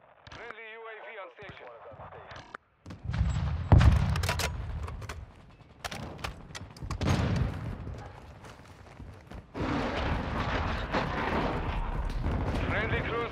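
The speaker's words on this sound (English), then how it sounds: "Friendly cruise missile deployed." A cruise missile strike in Call of Duty Modern Warfare II lands as a series of heavy, rumbling blasts and crackling gunfire. Announcer-style radio voices come in between the impacts, with loud explosive bursts at irregular intervals.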